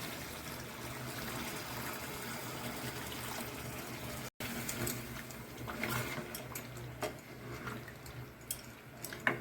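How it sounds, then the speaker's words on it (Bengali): Water poured into a pan of simmering chicken curry with potatoes, heard as a close, continuous trickle and splash that grows busier near the end, with a brief dropout midway. "কষানো হয়ে গেছে, এখন দিয়ে দেবো জল।"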